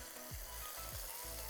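Fermented black beans stir-frying in a pan for mapo tofu: a steady close sizzle, with a couple of scraping stirs of the spatula through it.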